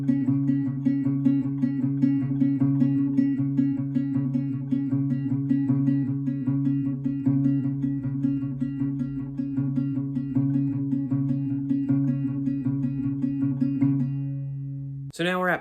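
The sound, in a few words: acoustic guitar plucking pattern, song verse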